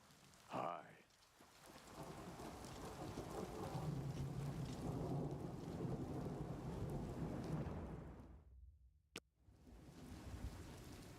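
Rain falls steadily in a thunderstorm in Oblivion Remastered, with a low rumble of thunder rolling under the hiss and a sharp crack near the end after a brief hush.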